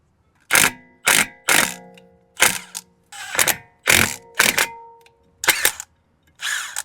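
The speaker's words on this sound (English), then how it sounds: "Now we can take the rotor off." A rusted front brake rotor on a 2003-2009 Lexus RX330/350 is worked free with a bolt, heard as about ten close, loud bursts of ratcheting, grinding metal separated by short silences, with no voices.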